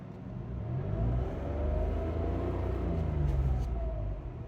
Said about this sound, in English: You will notice engine noise.